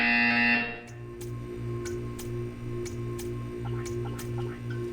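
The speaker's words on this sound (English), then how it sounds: "You will hear a buzzer." A flat electronic buzzer sounds in the video game Portal 2, followed by a run of regular soft pulses and faint ticking in a quiet room.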